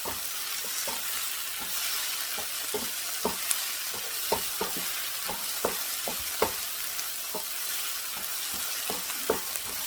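Aged kimchi (mukeunji) stir-fried with green onion and onion in a pan, a steady close sizzle broken by regular spatula scrapes and taps roughly every half second, with no talking.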